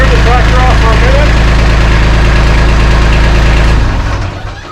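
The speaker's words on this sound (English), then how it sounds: "I'm going to turn the tractor off for a minute" A Kubota LX2610 compact tractor idles loudly inside a garage, its steady low diesel chug and knock filling the space before the engine winds down and cuts out near the end.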